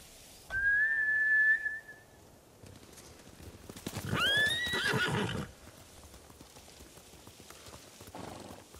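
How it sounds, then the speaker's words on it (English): A horse whinnies loudly in Ghost of Tsushima, then a second, higher neigh follows a few seconds later amid hoof clatter as samurai mounts flee, with quieter gaps between the calls. "Bastards scared off the horses."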